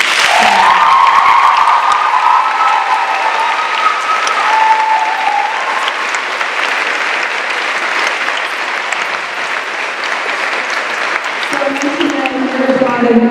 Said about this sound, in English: You're applauding yourselves, because this is what we're doing.